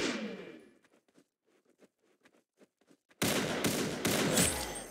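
Rapid bursts of gunfire crack out in a sudden loud fusillade after scattered faint pops, the volley dense and sustained to the end.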